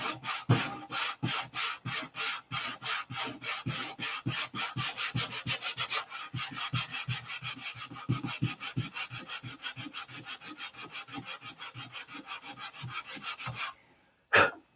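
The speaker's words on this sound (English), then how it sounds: "So I'm trying to sand out all the shiny nibs." Sandpaper rubbing back and forth over a wooden surface to knock down shiny nibs, a fast, regular series of close, loud scratchy strokes that keeps up without pause, then stops abruptly near the end.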